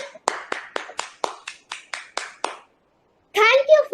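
A small group claps for a guest at a school event in roughly ten quick, evenly spaced claps that fade out, followed by a short pause and then a nearby voice speaking.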